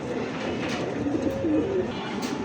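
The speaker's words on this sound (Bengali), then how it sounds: "একদমই ছোট জাতের কবুতর" Small-breed pigeons coo steadily and close by, their soft repeated calls running throughout with no talking.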